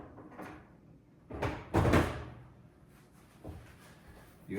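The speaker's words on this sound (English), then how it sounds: "You hear that click noise?" Miele oven door being opened and closed during a broil element replacement, giving a couple of close thuds and a clunk with a brief click, followed by quieter handling knocks.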